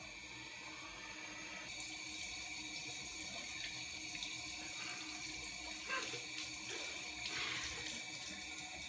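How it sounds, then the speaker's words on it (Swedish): Tap water running into a sink while a face is rinsed, a faint steady trickle with small splashes and spatters at close range. "Sen tvättar jag av detta med vatten."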